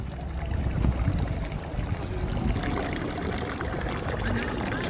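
Water from Prague's fountain statues pours steadily into the basin, a continuous loud splashing stream with no breaks, alongside outdoor ambience.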